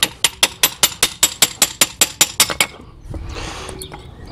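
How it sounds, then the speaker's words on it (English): Old brake pads on a Chevy Traverse knocked loose with a hammer: about a dozen sharp, evenly spaced metallic taps close up, followed by a softer scraping rustle as the pads come free. "the brake pads themselves, you can just tap out of here."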